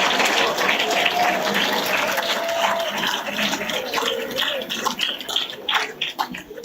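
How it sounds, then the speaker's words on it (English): Applause from an audience at a book launch in a hall, dense at first and then thinning into scattered, uneven claps toward the end, moderately loud. "A warm round of applause."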